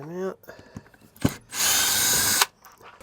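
A handheld power drill runs in one steady, loud burst of about a second while backing screws out of a fitted centre strip, with brief clicks and a short spoken bit just before it.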